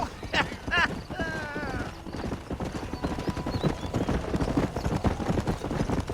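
A horse in the Red Dead Redemption video game clip-clops at a brisk rhythmic trot, with a couple of whinnies near the start and some faint voices mixed in.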